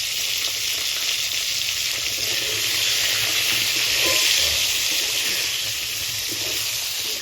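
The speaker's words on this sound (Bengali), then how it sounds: "পটলটা দেখো হালকা আমার ভাজা হয়ে গেছে" Pointed gourd (potol) frying in a salted pan for a prawn dorma, giving a steady, close, loud sizzle with bright hiss that holds for the whole stretch, with no voices.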